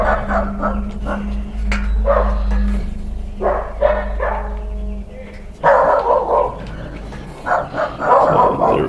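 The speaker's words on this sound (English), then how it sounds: "My dogs are going crazy. They're chasing squirrels." Dogs barking in bursts while chasing squirrels outdoors, heard at a moderate distance behind a steady low hum, with voices speaking over parts of it.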